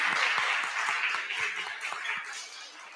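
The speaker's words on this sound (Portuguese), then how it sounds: "Aplausos para esse coral maravilhoso." A school audience applauds a children's choir at a fourth-grade passage ceremony, steady clapping with several sharp individual claps standing out, gradually thinning over three seconds.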